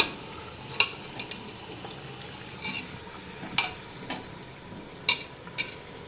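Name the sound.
chicken sautéing in oil in a pan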